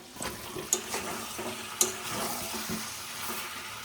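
Mutton and potatoes frying in masala while being stirred, a soft steady sizzle with scraping spoon strokes and a couple of sharp metallic clinks against the pot.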